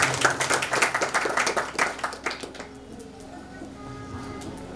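An audience at a community gathering claps for donors just announced. A burst of dense, close clapping lasts about two and a half seconds, then thins out to scattered claps and quiet.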